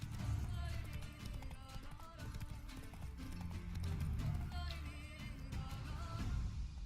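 Horse hooves pound in a steady clip-clop gallop through The Witcher 3 game, loud and continuous over a busy music and ambience bed with occasional whinnies.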